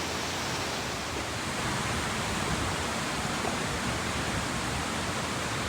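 A waterfall spilling over a dam in Old Mill Park, a steady broadband roar filling the scene without pause, loud and close, with no voices over it.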